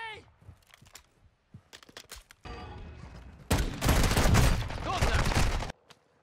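Gunfire in the video game Call of Duty Warzone: scattered shots, then a dense, loud burst of rapid automatic fire lasting a couple of seconds, with faint voices in the background.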